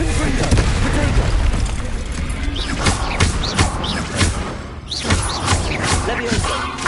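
Spell-casting effects from a Hogwarts wizarding video game, with a Confringo fire-blast spell among them: a dense, loud stream of booming bursts and whooshing crackles without pause.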